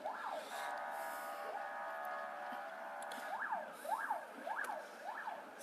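A fire engine siren wails from a distance as firefighters arrive at a large fire, its repeated rising and falling sweeps quickening into a fast yelp near the end, faint against outdoor background noise.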